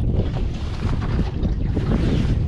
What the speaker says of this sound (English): Turn that outboard off.